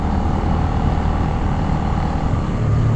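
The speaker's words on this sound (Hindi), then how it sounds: "बाइक राइड का मज़ा आ रहा है यहाँ पे।" A motorbike rides along a narrow, winding mountain road in the Galyat hills, its engine droning steadily and fairly loud throughout, with rushing wind noise and no talking.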